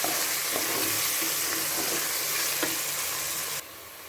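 Onions and mint sautéed in a pan for tomato rice give a loud, continuous close-up sizzle with faint stirring, dropping abruptly to a quieter hiss near the end.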